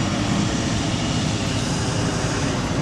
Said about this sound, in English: I did just want to see a cheeky little Dash 8 that's rolled through there